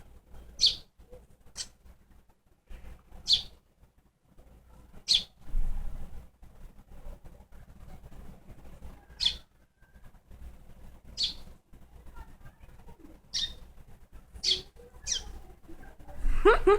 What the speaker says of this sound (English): Look, it's a bird.